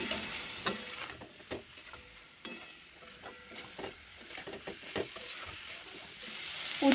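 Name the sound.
stirring fried bitter gourd in a cooking pan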